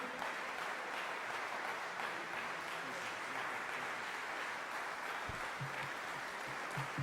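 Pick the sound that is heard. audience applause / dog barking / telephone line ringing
audience applause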